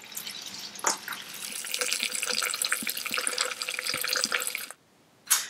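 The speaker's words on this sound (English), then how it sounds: "we'll transfer the wine from one bucket to another" Homemade California Shiraz wine siphoned from one bucket to another, a steady close trickle and splash of liquid with scattered drips, running continuously before cutting out briefly and resuming at the end.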